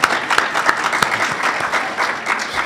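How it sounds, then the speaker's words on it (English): Summit audience at a global trade event gives a short, lively round of applause, with distinct individual claps standing out in an uneven, fairly loud burst of under three seconds. "Let's give her a big hand of applause."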